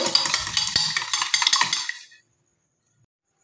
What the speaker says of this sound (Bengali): দুটো ডিম আমি খুব ভালো মতন করে একটু ফেটিয়ে নেব